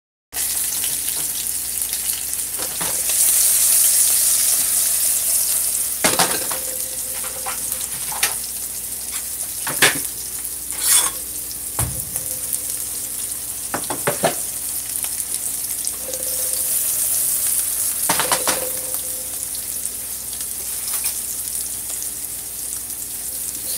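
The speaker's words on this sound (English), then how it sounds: "see if you can get your saltfish to fry" Salted cod coated in cornstarch sizzles steadily in a non-stick pan, a continuous close frying hiss broken by occasional sharp crackles and utensil taps, with no one speaking.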